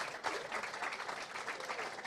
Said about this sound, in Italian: vorrei un applauso per Walter.